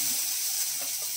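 Whole cardamom pods and cloves crackling in hot oil, a brief, even sizzle with soft hiss throughout.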